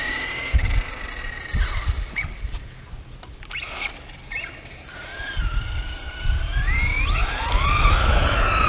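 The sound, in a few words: FS Racing brushless 4WD RC truck driving on 3S lipo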